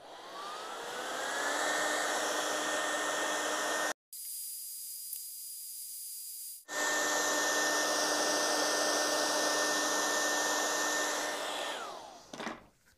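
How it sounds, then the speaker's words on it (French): Heat gun warming a ceiling panel over polyurethane foam to flatten it, a steady loud blowing whine with a rising tonal hum, cut off briefly twice then resuming before winding down. "On va essayer de la chauffer au décapeur thermique pour l'aplatir un peu"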